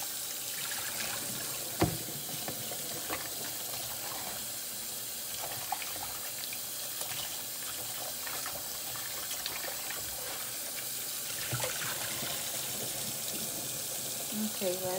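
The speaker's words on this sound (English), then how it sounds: "I'm washing my pork chops." Pork chops are rinsed under a running kitchen tap, a steady, fairly quiet stream of water splashing into the sink, with an occasional knock or clink.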